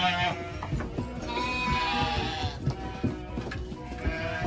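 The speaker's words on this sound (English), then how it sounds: "Come on, sheepy sheeps, little guy." Sheep bleating on a farm during shearing day, several loud, near, wavering bleats repeating irregularly over soft background movement, with no talk.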